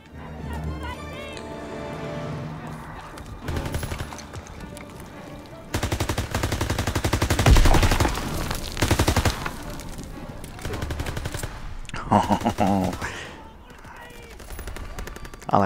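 Automatic weapon fire during a Call of Duty WW2 campaign mission, in sustained loud rattling bursts over a busy battlefield mix of explosions and game noise.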